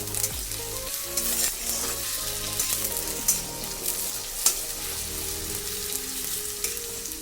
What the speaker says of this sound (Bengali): এই তেলের মধ্যেই আলুটা দিয়ে কিছুক্ষণ ফ্রাই করে নেব এর সঙ্গে।